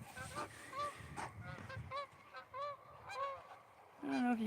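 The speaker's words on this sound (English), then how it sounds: "All the geese like to hang out here." Geese honking at night at an outdoor sports complex, a series of nasal calls repeating every half second or so, fairly close, with one louder, lower honk near the end.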